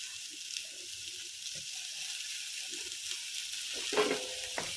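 Carrot and capsicum stir-frying in a pan, a thin high hiss of sizzling with low scraping and shuffling of the vegetables being turned, plus a short metallic clink near the end, quiet and close.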